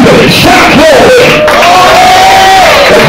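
A church congregation shouting glory and clapping, a loud, saturated mass of overlapping yells, whoops and voices close up that never lets up, with the clapping buried inside the shouting.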